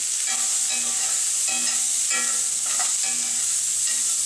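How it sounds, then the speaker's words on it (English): Sliced onions with beer and mustard sizzle loudly in a pan as they are stirred and pushed around, a continuous close crackle with small scraping movements and no voices. "We're going to move the onions around a bit"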